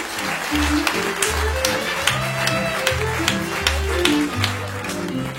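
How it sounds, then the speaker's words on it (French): An audience claps steadily at an association event, a dense wash of many hands under steady background music with a low repeating tune. "On l'applaudit très fort."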